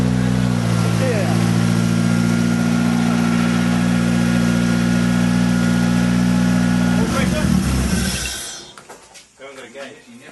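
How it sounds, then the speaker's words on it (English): A freshly rebuilt car engine idles loudly and steadily on its first startup, a constant droning hum for about eight seconds before it shuts off, leaving faint shuffling noises and people speaking nearby. "You never run a fresh engine for more than 10 seconds, eh?"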